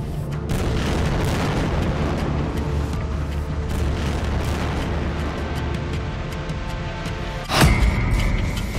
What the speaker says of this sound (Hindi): इसराइल के तूफानी हवाई हमलों में बमों के धमाके ऐसे इमारतों को उड़ा रहे हैं